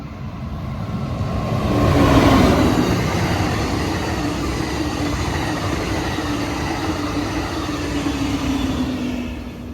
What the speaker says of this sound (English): That's the Pacific Surfliner train here.